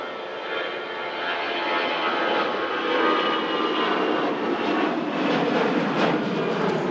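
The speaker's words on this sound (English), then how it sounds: "EasyJet heading out to Alicante." An easyJet airliner departs Manchester Airport for Alicante, its engine noise a steady whooshing roar that swells slightly and stays strong from nearby, with no talk over it.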